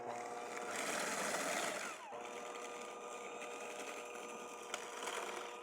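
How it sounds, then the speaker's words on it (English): A handheld electric mixer beats pumpkin pie filling in a bowl with a steady, close motor whir that runs throughout, a little louder and rougher for the first two seconds before settling to an even drone. "Get my handheld mixer."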